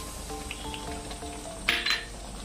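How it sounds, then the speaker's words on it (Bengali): Chicken sautéing in a pan with Kashmiri chili and biryani masala for a chicken biryani: a steady soft sizzle with a couple of brief metallic clinks of a utensil against the pot near the end. "দিয়ে আবার ভালো করে আমি তিন মিনিট কষিয়ে নেব"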